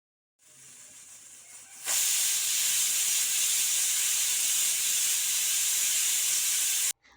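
Steam hisses loudly and steadily from a pot of peas boiling on a home stove for ghugni, starting softer, then surging to a strong, constant rush before cutting off abruptly.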